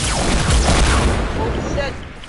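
A guided missile blows up in a Fortnite match: a loud, deep boom and rumble that fades over a couple of seconds, with voices talking over it.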